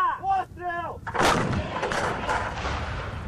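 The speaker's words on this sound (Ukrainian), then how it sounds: "так потужно стріляють із великого калібру" Speech gives way to a single deafening boom of a large-calibre artillery gun firing, followed by a long, rumbling roar that rolls on and slowly fades.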